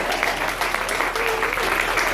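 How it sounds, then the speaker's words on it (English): Wedding guests clap in a short burst of applause at a reception, a steady wash of hands at moderate volume with faint voices mixed in. "another round of applause for you"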